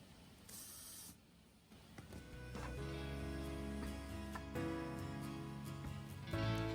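A power drill with a countersink bit whines steadily as it countersinks screw holes in a wooden tiller for a Hallberg-Rassy 312 sailboat, heard close but at low level after a soft hissing start.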